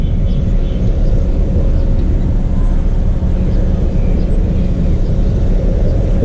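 Dense street traffic in Yangon, Myanmar rumbles continuously with car engines passing close by, a loud steady wash of vehicle noise.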